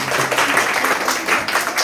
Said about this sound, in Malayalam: എല്ലാവരും ക്ലാപ്പ് കൊടുക്കും.